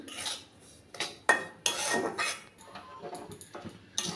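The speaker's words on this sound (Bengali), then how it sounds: "সুজিটা আমি হালকা নেড়ে নিয়েছি" Semolina (suji) being stirred in melted ghee in a pan, giving several bursts of spoon-against-pan scraping and clinking with short pauses between them, fairly quiet and with no talking.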